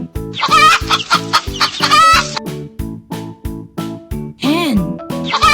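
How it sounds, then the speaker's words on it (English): A farm hen clucks in a run of short, loud, repeated calls with one longer rising squawk, all over steady background music. "Hen."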